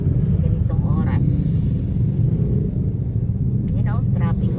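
Steady road traffic rumbles close by near a private school, with car engines droning continuously and brief higher motor whines, while a voice talks over it.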